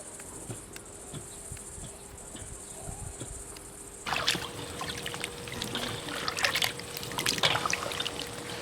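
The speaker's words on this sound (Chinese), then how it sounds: "把小番茄倒到开水锅里，烫个1分钟左右" Small tomatoes poured into a pot of boiling water. A low, steady simmer gives way halfway through to a louder burst of splashing and churning bubbles that keeps going to the end.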